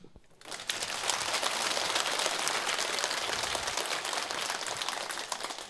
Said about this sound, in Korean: 모니카 어머니 위해서 박수.